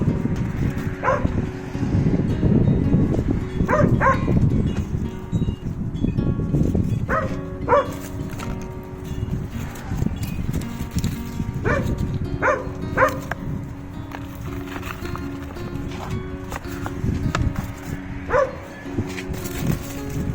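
A non-farm dog on a homestead barks in scattered bursts, some doubled, over gusty wind noise that is loud at first and then eases off.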